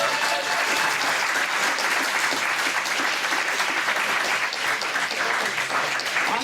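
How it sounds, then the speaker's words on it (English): An audience at a live Los Angeles talk on cinematography breaks into sustained applause, a dense, even clatter of many hands that stays loud throughout. "let's have one more round of applause"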